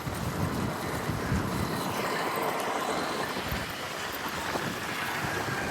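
An ordinary passenger boat crosses the sea, heard as a steady broadband engine drone mixed with rushing wind buffeting the microphone, constant and fairly loud throughout.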